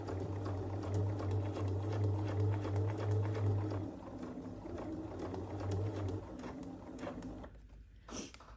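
Sewing machine stitching a quilt block at a stitch length of 2, a steady close motor hum running for several seconds with a brief pause, then stopping near the end.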